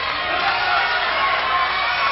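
A wrestling crowd at an OVW contenders match gives a steady, dense roar of cheering and noise throughout, with commentary talk running under it.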